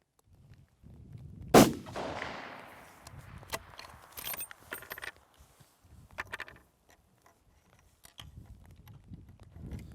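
A single loud, sharp rifle shot from a VPO-114 Tayozhnik firing a Hornady 168-grain bullet over Sunar powder at a long-range outdoor range rings out early, trailing a decaying echo, followed by quieter clicks and handling noises.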